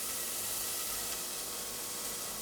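Carbonara ingredients start to sizzle in a pan, a steady broadband hiss with no gaps, moderately loud and close, with no voices.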